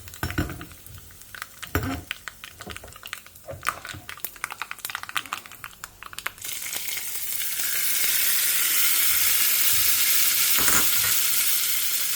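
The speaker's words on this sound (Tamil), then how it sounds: "இப்போ பொரிஞ்சதுக்கப்புறமா இந்த கருவேப்பிலையை பொரிய விட்டுட்டு" Curry leaves hit hot oil in a small pan: scraping and clinking at first, then a sudden loud crackling sizzle that settles into a steady frying hiss, up close.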